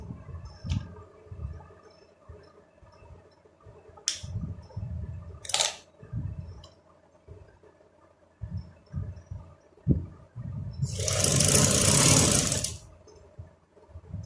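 Sewing machine stitching a frock, one loud, steady run of about two seconds after scattered soft clicks and thumps of fabric handling; no one speaks.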